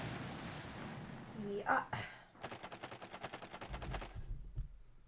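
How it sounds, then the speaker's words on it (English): Video game explosion in Paper Mario: The Thousand-Year Door: a burst, then a rapid run of sharp repeated booms and rattles, followed by low rumbling, with a brief voice. "Kaboom. Twilight Town's now probably a crater."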